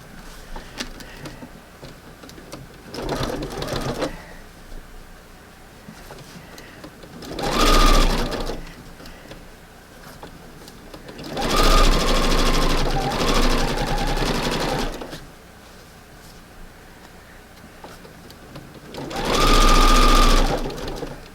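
A sewing machine stitches slowly over thick seams on a front porch decor project, running in four separate bursts of rapid mechanical chatter with quiet pauses between, close and clear.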